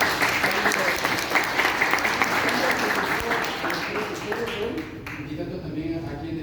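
A lecture audience breaks into strong applause, dense clapping that fades over several seconds while voices begin to murmur and talk beneath it.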